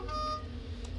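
A steady electronic steam locomotive horn tone in Train Simulator, with stacked harmonics, holds for about half a second, then cuts off, leaving a low rumble underneath.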